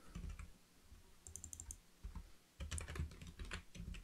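Keys clack on a computer keyboard in short bursts of quick typing separated by brief pauses, close and soft, with no one speaking.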